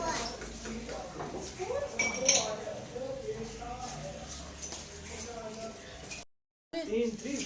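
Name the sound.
utensils and dishes being carried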